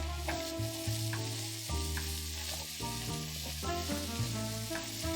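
Chili sizzles steadily in a pot as it cooks, a constant frying hiss with occasional stirring scrapes, over quiet tonal music in the background.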